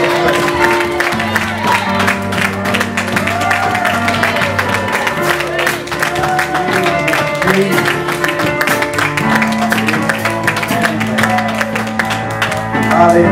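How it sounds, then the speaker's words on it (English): A church congregation clapping their hands in praise, a steady rhythmic stream of many claps over sustained music and crowd voices, loud and continuous throughout. "give the Lord a hand clap of praise"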